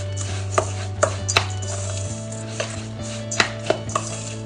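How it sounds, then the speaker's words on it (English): Cookie dough made with raw cacao powder and other natural ingredients is mixed in a bowl, with a scatter of soft scrapes and knocks over a steady low kitchen hum. "Give it a really good mix."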